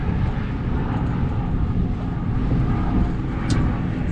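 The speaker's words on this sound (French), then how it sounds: "Il y a les hélicoptères, il y en a 2. Il fait des rondes" Helicopters circling overhead while a boat holds nearly still near a buoy, heard as a steady broad rumbling drone that persists throughout without breaks.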